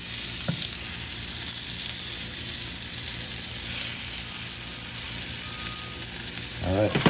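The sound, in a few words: grilled cheese donut frying in butter in a pan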